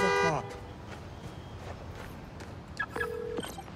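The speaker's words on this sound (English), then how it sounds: "Follow the honk." A car horn sounded by a key fob in the Spider-Man Miles Morales video game on PS5 gives one short, loud honk that cuts off at the start, followed by quiet game ambience and a faint later tone.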